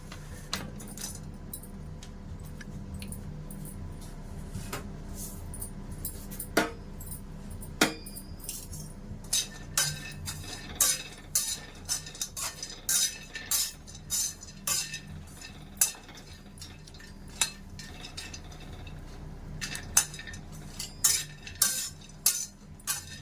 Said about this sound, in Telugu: కిస్మిస్, డ్రై ఫ్రూట్స్ ఫ్రై చేసుకుందాం. కొద్దిగా ఎండు ఖర్జూరం కూడా.